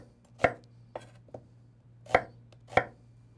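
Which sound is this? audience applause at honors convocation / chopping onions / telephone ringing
chopping onions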